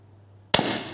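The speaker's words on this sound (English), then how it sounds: "if I pull the bottom side of the trigger, yep, it still fires" A single sharp shot from a DZP MK2 blaster, a sudden loud pop after near silence with a short ringing tail.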